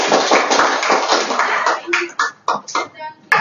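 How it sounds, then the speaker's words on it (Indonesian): Classroom audience clapping for a student group after their presentation, a burst of scattered claps that fades into a few sparse, separate claps, with some voices mixed in. "Tepuk tangan dong untuk kelompok 3."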